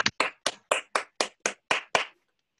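Nine distinct hand claps in an even, steady rhythm, close and fairly quiet, then silence, closing a talk on green chemistry concepts in natural dyes.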